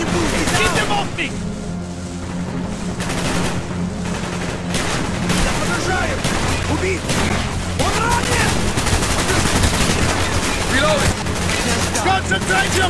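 Dense, continuous gunfire rattles throughout a Call of Duty Black Ops battle, with rapid automatic bursts and booming shots layered under shouted in-game dialogue.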